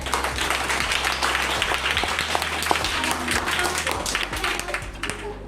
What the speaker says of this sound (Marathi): बरोबर, टाळ्या वाजवायच्या.